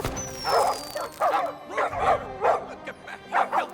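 A pack of cartoon puppies barks and yips excitedly, a string of quick overlapping yelps and bow-wows over a low background hum, with a thin whistling tone near the start.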